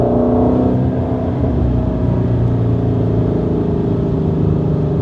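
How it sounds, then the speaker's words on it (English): A Ford Mustang Shelby GT350 V8 engine revs loud and close, its deep exhaust note rising and holding steady for several seconds with no talk over it. "Yeah, you only get that with a V8."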